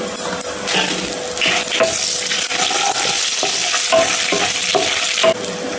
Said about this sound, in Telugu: అదే ఆయిల్లో తాలింపు దినుసులు అన్నీ